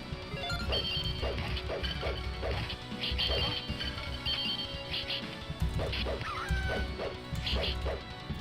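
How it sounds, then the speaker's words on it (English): Dogs yelp and whimper as they are struck down in the arcade game The King of Dragons, with short repeated cries over dense game music, crashing hit effects and ongoing chatter. "Oh shit, I'm killing dogs."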